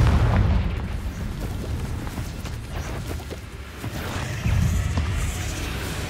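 A Confringo fire spell explodes in the Hogwarts Legacy video game, a loud, dense rumbling blast that roars steadily for several seconds and swells again near the end.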